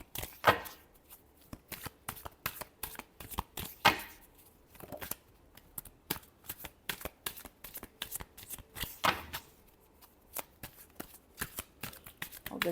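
Tarot cards shuffled close up in a steady run of quick riffling flicks and slaps, repeated bursts continuing throughout with no talking.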